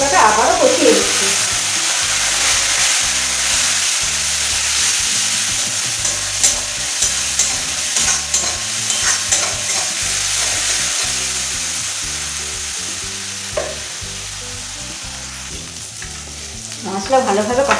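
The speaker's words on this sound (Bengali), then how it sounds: "জল দিয়ে ভালোভাবে মশলাটা আবারও কষিয়ে দিচ্ছি।" Spice paste for a chicken and green pea ghugni sautéed in a pan with added water, sizzling and frying steadily under repeated stirring scrapes, loud and close throughout with no talk.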